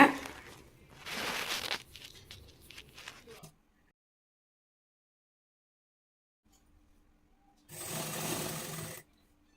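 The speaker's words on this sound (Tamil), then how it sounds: "அந்த நாடா மேலே வச்சு ஒரு தையல் போடுங்க" Sewing machine stitching the ribbon onto a small fabric skirt made from a saree blouse piece, heard in short close bursts of rapid whirring separated by handling noise and a long silent gap.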